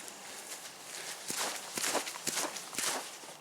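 Footsteps crunch along with soft rustling of gear and a faint slosh of a water canteen carried in the gear, the sound rising and falling in uneven bursts close by.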